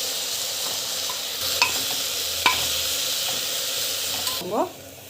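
Masala with chili powder sautéing in a pan, a steady soft sizzle and frying hiss with occasional stirring scrapes and clinks, close and continuous.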